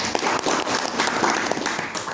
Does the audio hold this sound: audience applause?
yes